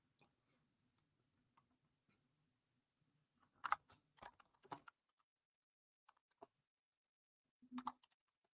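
Keys clatter on a computer keyboard in short, quiet bursts of close clicks separated by pauses, as a question is typed out, with no talk.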